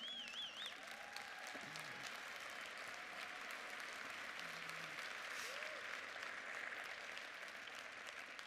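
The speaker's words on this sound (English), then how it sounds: "I wanted you to all to give them a big round of applause" An audience gives a big round of applause at a talk, a faint, far-off, continuous patter of clapping with a few scattered voices and whistles.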